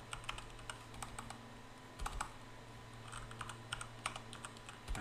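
Close, quiet typing on a computer keyboard, with irregular clusters of light key taps and occasional firmer strokes over a low steady room hum.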